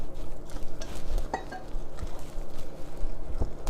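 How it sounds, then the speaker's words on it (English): Semi-sweet organic dark chocolate chips being stirred into chickpea cookie dough in a bowl, giving a steady soft scraping and mixing with occasional light clinks, close by and without speech. "you want to stir those through"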